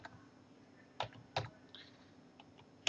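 Someone types on a computer keyboard in a quiet room, with a few separate keystrokes spread irregularly across the moment, each a crisp close click over a faint background hum.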